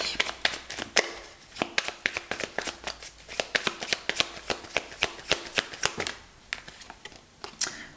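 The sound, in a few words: shuffling and drawing tarot cards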